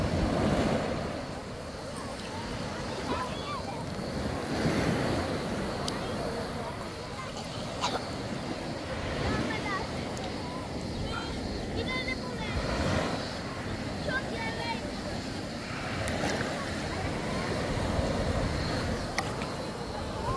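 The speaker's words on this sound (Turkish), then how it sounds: "Bugün dalgalı şansımıza. Biraz dalga var." Waves lap a bay shore on a choppy day at Datça, a continuous wash of surf mixed with wind buffeting the microphone while someone talks over it.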